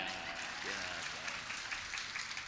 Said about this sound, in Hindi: अब बजाओ तालियां।